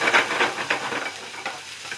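Garlic and onion sizzling in hot oil in a pan, with stirring scrapes coming in regular pulses over a steady frying hiss, close up and without talk.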